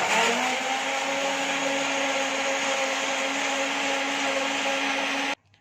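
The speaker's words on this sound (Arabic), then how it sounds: "هضربها في الخلاط" A blender mixing iced coffee with ice whirs loudly and steadily for about five seconds, a dense grinding roar with a motor hum, then cuts off abruptly.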